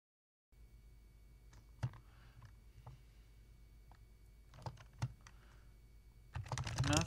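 Fast typing on a keyboard with blank keycaps: quiet, close clicks in irregular bursts with a few louder key strikes, building to a dense flurry at the end.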